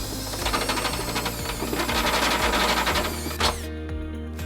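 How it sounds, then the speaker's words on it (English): A step drill bit slowly enlarges a hole in the frame of a Nissan Sentra for a trailer hitch install, making a rapid, rattling chatter of cutting under a steady drill whine, then stopping abruptly as the motor winds down. "Using the step-it, we're just going to go nice and slow to enlarge that hole."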